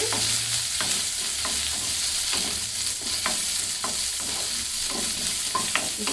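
Sliced onions and split green chillies frying in a pan, a continuous dense sizzle with periodic scraping stirs over a faint low hum.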